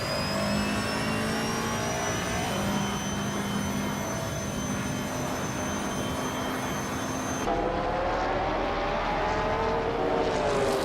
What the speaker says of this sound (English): Buckyboard is driving a 1996 Vauxhall Vectra